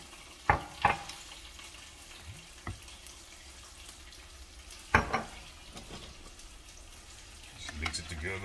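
Homemade buffalo sauce is stirred in a pan with a faint, steady simmering hiss, broken by a few sharp utensil clinks against the pan.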